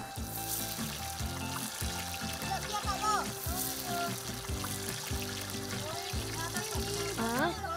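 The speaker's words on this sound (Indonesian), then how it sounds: "aku bantu kakak goreng tempe dulu ah" Tempe fries in hot oil with a steady, continuous sizzle throughout, heard beneath background music and some talking.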